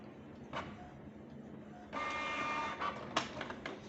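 Canon PIXMA G2020 inkjet printer running a nozzle check print, with soft mechanical whirring, then a louder steady feed-and-print motor hum with clicks, heard close and quiet.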